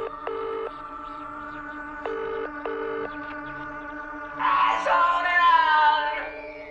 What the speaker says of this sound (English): Answering a phone, you can hear Tom York yelling.